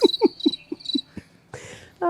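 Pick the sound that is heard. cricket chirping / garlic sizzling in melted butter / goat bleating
cricket chirping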